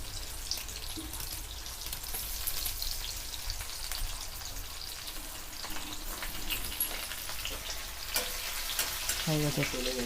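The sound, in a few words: onion frying in spice tempering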